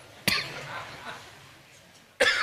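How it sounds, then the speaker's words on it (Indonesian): Two sharp coughs from audience members during an Islamic lecture, one near the start and one at the end, separated by a quiet murmuring hall. "Aduh, mereka batuk ya."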